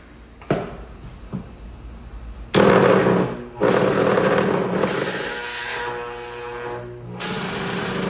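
Loud bursts of a power saw and drill start and stop abruptly, with sharp knocks at first, then long grinding runs separated by short pauses.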